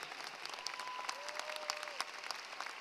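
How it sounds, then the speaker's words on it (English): Graduation ceremony audience at Palo Alto College applauding a student trustee, a dense, moderately distant wash of clapping with a faint tonal whine running through it. "Would you give a round of applause also to Jacob Wong?"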